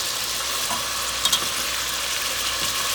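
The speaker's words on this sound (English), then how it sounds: "And we want to get a good sear." Chicken sears in a pot over high heat, a loud, steady hiss of frying fat with a couple of brief crackling pops, close up and uninterrupted by speech.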